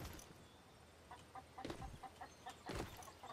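Chickens clucking in The Saboteur video game, with faint, scattered short clucks and squawks over a quiet background.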